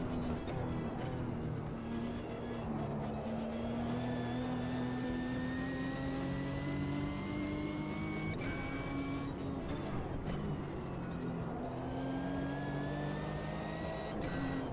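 A racing car engine in Automobilista 2 whines and climbs in pitch under throttle through a corner, drops briefly, then rises again as it accelerates, loud and continuous with no talk.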